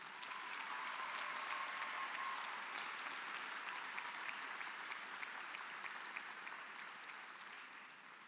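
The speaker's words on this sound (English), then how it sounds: "So big round of applause for your parents especially." Steady audience applause at a high school commencement ceremony, a dense wash of many hands clapping that stays loud throughout and tapers off slightly at the end.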